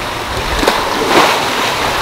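Sea waves wash onto the shore of an island beach in the Philippines, a steady close rush of surf that swells briefly, with no one speaking.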